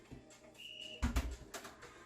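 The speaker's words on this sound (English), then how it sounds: "There's our whistle." A sharp whistle blast marks the switch between exercises in a standing lower-body workout for older adults, with one steady tone sounding briefly and clearly over a quiet room.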